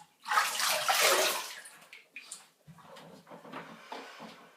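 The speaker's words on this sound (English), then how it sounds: "Let's get rinsed off." Water rinsing off after a shave: a strong gush of running water splashes loudly for a second or so, then softer intermittent trickles and splashes follow.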